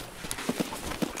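Soft, hollow footsteps from a video game, about four distinct steps spaced irregularly over a second, fairly close and moderately quiet against a faint background hum.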